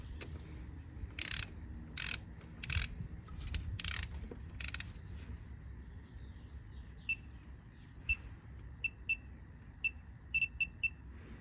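Torque wrench tightening engine bolts on a Mini Cooper S with the N18 engine, set to 15 foot-pounds: several loud broadband ratcheting bursts, then a run of sharp, evenly spaced clicks, with no talking.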